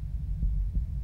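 Heartbeat from a horror pizza delivery video game: a low, throbbing double thump pulsing steadily twice over a droning hum, heard alone without talk.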